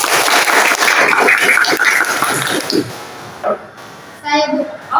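A classroom of students gives a short burst of clapping for a classmate's answer, dense at first then thinning out, followed by a teacher's voice and students speaking nearby.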